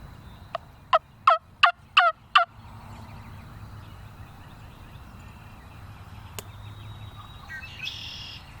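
A wild turkey tom gobbles in a field, a rapid rattling burst of five or six loud notes close by, followed by quiet outdoor ambience with a faint distant call and soft rustling.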